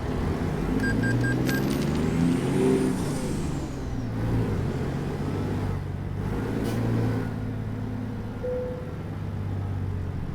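A truck engine in American Truck Simulator idles with a low steady rumble, with a couple of pitch rises like revving and faint hissing higher up.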